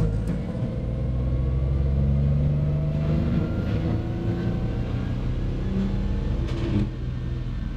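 BMW M57 diesel engine in a car with a manual gearbox, strapped down on a dyno, running as a steady loud low rumble with a faint rising whine and a slight change near the end.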